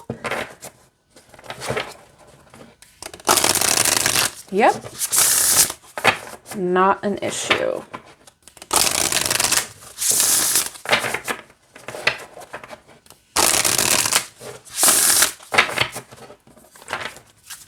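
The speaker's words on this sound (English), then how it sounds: "All right, let's shuffle." Oracle cards being shuffled in quick riffling bursts, loud and close, with a few brief spoken words between shuffles.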